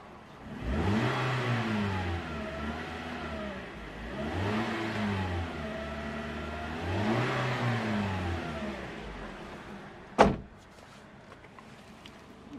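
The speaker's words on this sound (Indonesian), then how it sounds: "Ini dia sound mesinnya." Engine of a 2020 Toyota Calya G MT facelift with manual transmission, revved three times in slow rising and falling swells, followed by a sharp close thump like a door shutting.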